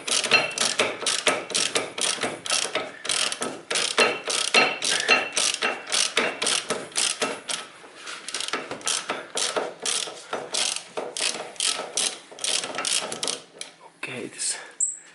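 A long brake caliper bolt on a Nissan is loosened with a ratchet, making loud, rapid and steady pawl clicking close up that runs almost without a break and stops just before the end.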